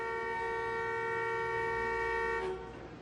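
An Oldsmobile horn blares in one continuous held tone from a short circuit in the steering ring, loud and steady, then cuts off near the end.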